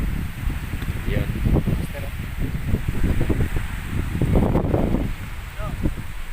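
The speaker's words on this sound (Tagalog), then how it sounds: "Mukhang malakas ang hangin talaga." Strong wind at sea buffets the microphone in gusty, rumbling bursts while people talk over it near a boat.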